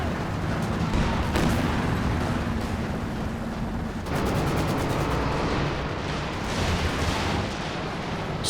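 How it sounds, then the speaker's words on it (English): Artillery barrage in a Company of Heroes 2 match, a continuous dense roar of overlapping shell explosions and rumbling booms, loud and sustained throughout with fresh bursts of impacts. "Barrage coming in, but it looks like it's not going to hit too much."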